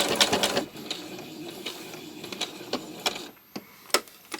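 A sewing machine works a feather stitch across small fabric scraps, with soft, uneven ticking and clicking at close range, occasional sharper taps and a low hum underneath, and no talking.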